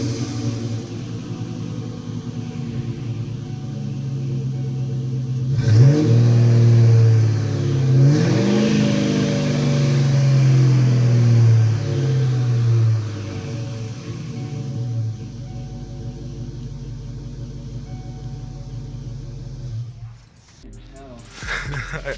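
A Mustang GT engine with an off-road H-pipe exhaust idles with a low rumble, then revs hard several times in loud, rising bursts before settling back to a steady drone with voices nearby.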